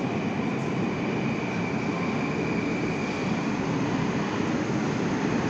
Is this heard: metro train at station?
yes